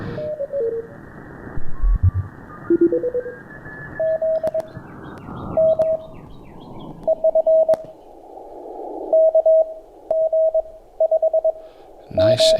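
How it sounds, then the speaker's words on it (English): Keyed CW Morse code tone from an amateur radio receiver, a steady pure note sounding in short dot-and-dash bursts over a hiss of band noise, clean and moderately loud with no talk. "So let's tune over right on the CW signal."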